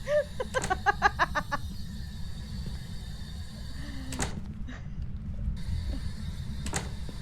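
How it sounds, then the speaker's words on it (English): In the Phasmophobia ghost-hunting game, a door is opened. A short burst of rapid rattling comes first, then creaks and sharp clunks over a steady low rumble, with no voices. "See if he can open the door."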